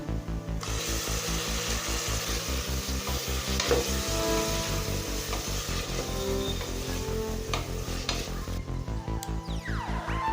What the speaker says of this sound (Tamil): தக்காளி நல்லா சாஃப்டாக ஆகிற வரைக்கும் நல்லா வதக்கிக்கோங்க